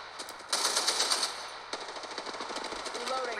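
Automatic gunfire in the mobile shooter Apex Legends Mobile, played on a Redmi Note 8, rattles out in rapid, loud bursts, with one sustained volley and then a second longer stretch of fast shots, along with faint game sounds.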